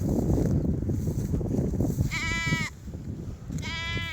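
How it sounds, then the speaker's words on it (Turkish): Sheep bleat twice, close by, with quavering wavering calls over a rumbling, windy outdoor background. "Oğlum koyunlar oradadır."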